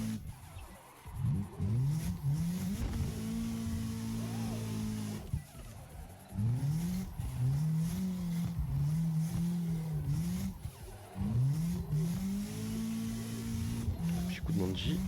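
A car drifting in the Assetto Corsa racing game, its engine revving up and down in repeated sweeping surges, with tire squeal mixed into the loud, continuous drive.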